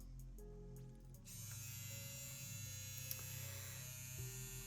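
A Linetion Sworder tattoo pen machine switches on and runs at about 8 volts, a low steady electric hum and buzz close to the microphone, faint and continuous with no speech.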